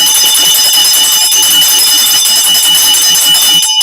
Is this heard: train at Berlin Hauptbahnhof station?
no